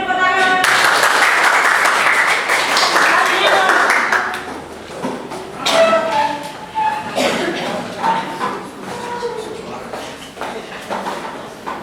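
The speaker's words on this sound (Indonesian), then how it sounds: "Beri tepuk tangan." Applause from a classroom audience after a student presentation, a dense burst of clapping that swells at the start and then thins into scattered claps with voices talking underneath.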